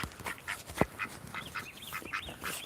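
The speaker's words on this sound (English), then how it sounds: "Try dropping it where the ducks can reach it." Ducks in a barnyard give soft, scattered quacks and murmurs at a moderate distance, one sharper call standing out among the quieter chatter.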